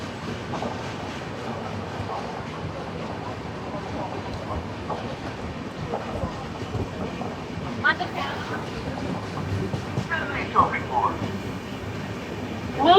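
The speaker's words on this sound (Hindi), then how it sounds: "आइए एंजॉय करते हैं कुछ बचे हुए पल मुंबई LTT सिकंदराबाद डोरंटो एक्सप्रेस की।" Onboard the Mumbai LTT to Secunderabad Duronto Express, a steady low rumble of the running train fills the background with faint rhythmic rail clatter, while people talk quietly nearby.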